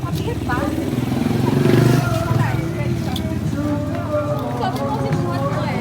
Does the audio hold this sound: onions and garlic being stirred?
no